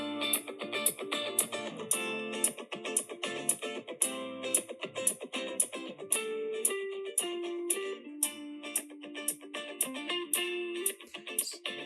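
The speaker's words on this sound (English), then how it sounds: "So we had like these 4 different guitar parts, which sound like this." Four looped electric guitar parts from a home demo layer into a dense, steady stream of quick picked notes with a repeating riff, played without pause at moderate level.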